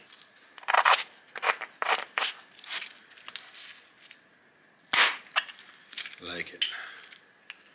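Sharp clicks and snaps of a stone flake being knapped for a stone knife in the style of ancient Badarian blades, several crisp strikes and scrapes at close range, with brief speech in between.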